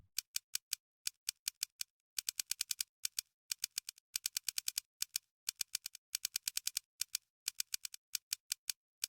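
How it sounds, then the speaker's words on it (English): Rapid tapping clicks of typing on a phone keyboard, crisp and close, coming in quick bursts separated by short pauses, with no voices. "I begin to type on my phone."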